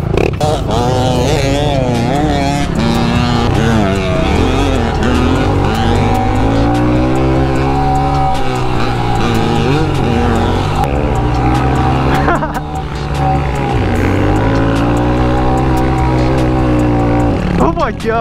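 A 2023 Honda CRF110 pit bike engine drones loud and close while racing, its pitch climbing and dropping steadily through gear changes, with a rider's voice talking over it.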